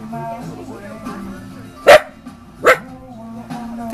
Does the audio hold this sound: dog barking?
yes